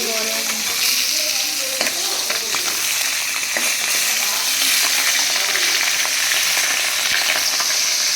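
Oil sizzles loudly and steadily as food fries in a pan, with occasional stirring scrapes, no voices.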